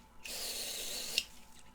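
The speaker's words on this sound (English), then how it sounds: "I'm using my BW100 to just kind of jet spray inside of these ports to help irrigate them out" A handheld water jet sprays into the ports of a dirty, pet-hair-filled PS4 Pro console, a steady hissing burst lasting about a second, close and fairly loud, then cutting off.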